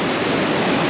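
Waterfall on a mountain creek in Wild Basin, a dense, steady roar of falling water, close and loud throughout the short moment.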